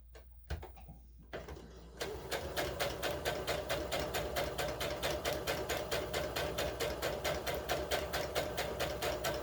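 A sewing machine stitches the cotton lining of a 20-inch doll dress: a few faint clicks and handling noises, then a steady, rapid mechanical chatter of needle strokes runs evenly close by to the end.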